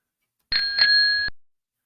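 A single bicycle bell rings on its own, a bright metallic double ding that sustains briefly and then cuts off, surrounded by silence.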